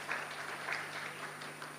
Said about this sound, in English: A round of applause for the presentation.